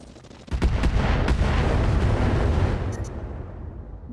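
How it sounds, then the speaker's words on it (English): Full artillery salvo in a real-time strategy video game: a sudden loud barrage that starts about half a second in, then dense, rumbling overlapping blasts sustained for several seconds before slowly fading. "Move order received. Firing full salvo."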